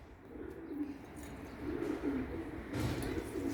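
Soft pigeon cooing repeats in a low, murmuring rhythm, fairly close, with a faint rustle near the end.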